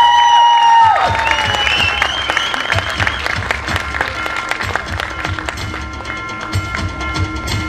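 An audience at the Kokan Sanman award ceremony breaks into applause. A brief tone is heard at the start, then many hands clap in a full burst that gradually thins out.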